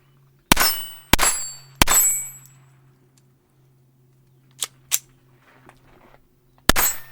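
Smith & Wesson Performance Center PC22 Victory .22 pistol firing at steel targets, three sharp shots in quick succession with ringing metallic pings, then two fainter impacts and another loud shot.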